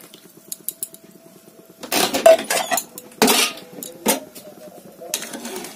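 Jujube plums and jaggery boiling in water in a pot are stirred with a utensil, giving close, loud scraping and clanking strokes in bursts after a quieter start with faint clinks.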